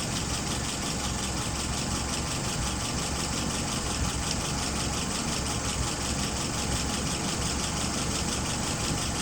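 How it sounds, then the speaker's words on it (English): A car engine idles steadily at about 600 RPM with a couple of dirty spark plugs suspected, a continuous close, loud rumble that holds even throughout with no voices. "Idle RPM right now is about 600. I could turn that up a little bit."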